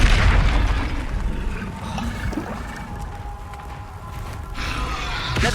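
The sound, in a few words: Depulso spell effect in video game Hogwarts Legacy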